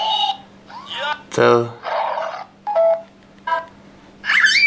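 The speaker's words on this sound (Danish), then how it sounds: "Det er alle de her ringetoner her" Ringtones from a Samsung Galaxy S3 play one after another as short snippets of chirps, beeps and melodic tones, each separated by brief gaps, with a quick spoken word among them.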